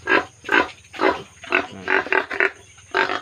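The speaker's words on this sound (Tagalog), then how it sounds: "mga baktin, maliliit na baboy" Live piglets on a farm grunt and squeal in a rapid series of short, close bursts, about nine calls in quick succession with brief gaps between them.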